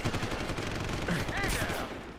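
Gunfire in the video game Deus Ex: Human Revolution, rapid bursts of automatic shots rattling continuously in the distance, mixed with shouting voices.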